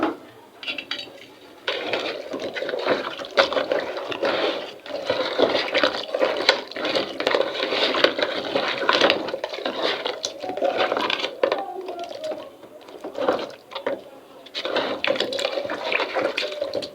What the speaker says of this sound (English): So here is my fish. I add hot water to wash it.